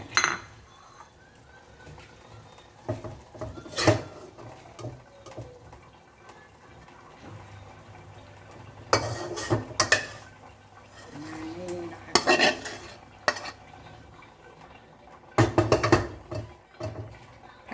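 Stir-fried long beans with minced pork are scooped from a pan onto a plate, giving scattered clinks and scrapes of a utensil against metal and dishware in short bursts, with quiet pauses between them.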